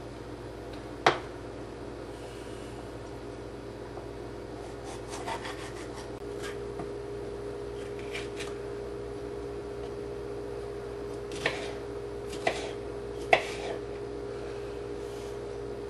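A knife slices a yellow bell pepper on a cutting board for kebabs, giving faint scattered chops and scraping taps against a low steady room hum.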